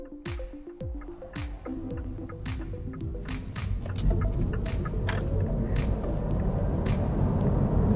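A MINI Cooper S Electric accelerates on the road. The interior noise starts with a few tonal whirs and quickly swells into a steady, loud rush of road and wind noise with low rumble.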